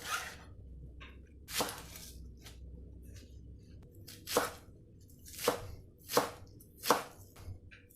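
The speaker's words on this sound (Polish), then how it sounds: "Kroję szczypiorek." A knife chops chives on a cutting board, a handful of sharp separate cuts spaced irregularly with quiet pauses between, close and fairly soft, with no talking.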